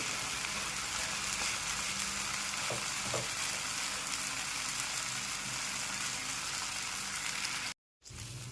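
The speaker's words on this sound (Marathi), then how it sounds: "आता आपण दुसऱ्या बाजूने पण त्याला चांगलं भाजून घेऊ" A wheat-flour dhirde pancake crisps on its second side on a hot pan, a soft even hiss like light rain throughout, a couple of faint taps, then a brief cut-out.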